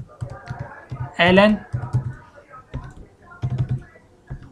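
Fingers type code on a computer keyboard in quick bursts of close, crisp key clicks, broken by short pauses, while someone speaks briefly over the tapping.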